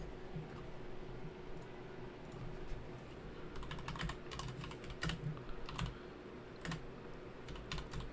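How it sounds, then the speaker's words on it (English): Fast, irregular typing on a computer keyboard: quiet, close key clicks arrive in bursts over a low background hiss, with no voices. "I'm going to type that in now"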